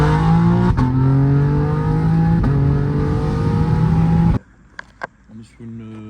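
A BMW M3 G80 xDrive with a downpipe and tuned map revs hard up through the gears, a loud, rising engine note broken by sharp, motorcycle-like shift cracks, then cutting off abruptly into quieter idle sounds.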